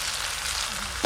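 Panch phoron spices hit hot mustard oil in a village-style fish curry pan, giving a brief, close, even sizzle.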